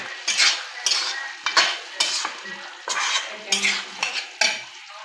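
Chicken cooking in a pan with a splash of water added, giving a run of short, bright sizzling and scraping bursts at an uneven rhythm, close and fairly loud, with no talking.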